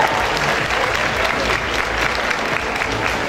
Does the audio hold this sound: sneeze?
no